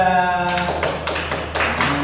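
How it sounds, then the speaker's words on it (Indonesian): A group applauding during a community training session, scattered clapping that starts after a brief musical tone and continues unevenly at close range. "kita tepuk tangan dulu untuk kelompok 2"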